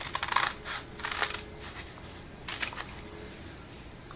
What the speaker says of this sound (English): And now we're going to cut it along the folds.